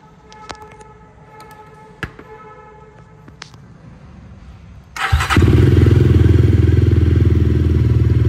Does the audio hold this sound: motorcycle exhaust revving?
yes